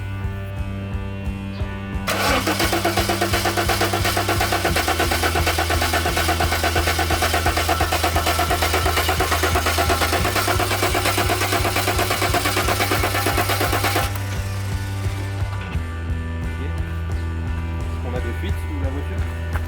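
A Jaguar XJ40 engine cranks over on the starter with its ignition coil harness unplugged, so it churns in a rhythmic whirring pulse for about twelve seconds without catching, then stops.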